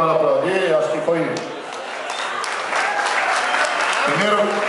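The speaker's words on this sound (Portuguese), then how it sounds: "Quem quiser aplaudir, pode aplaudir." Festival audience applauding at an immigrants' king festival, a broad wash of clapping that runs nearly the whole time, with voices talking over it near the start and end.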